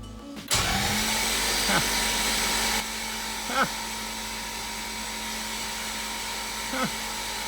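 An engine cranks over on its starter during a compression test with a pressure gauge, giving a sustained whirring drone with a few brief pitch dips at regular intervals.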